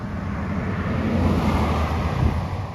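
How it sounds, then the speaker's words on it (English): A truck drives along a rural road near hayfields. Its low engine rumble swells to a peak near the end, with wind buffeting the microphone throughout. "There's a truck coming."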